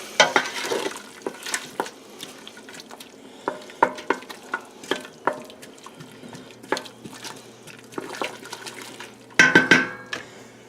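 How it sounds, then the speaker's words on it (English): Green chilli stew being stirred in a pot after deglazing, a utensil scraping the sides and bottom with repeated irregular clanks and scrapes over a faint sizzle, close and clear, with no talking. "Make sure we stir that up really good. Scrape the sides and the bottom."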